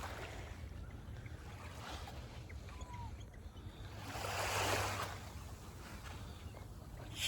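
Sea waves wash along the shore at Stanley Park in Vancouver on a cold day, a faint, distant surf hiss with wind rumble and one swell of breaking water midway, no one speaking.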